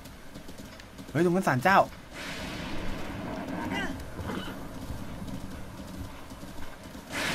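Hooves clatter in a quick clip-clop rhythm as a horse gallops in The Legend of Zelda: Breath of the Wild, with a brief neigh-like burst early on, all under someone speaking Thai.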